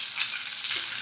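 Pork belly sears in a single pan on a stovetop, giving off a light, steady hiss and crackle of frying fat, close and fairly soft.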